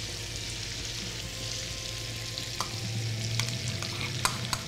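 Bourbon-glazed meatballs sizzle steadily in a hot pan as the alcohol burns off, a continuous crackling hiss broken by a few sharp pops and faint clinks of stirring, with no talking.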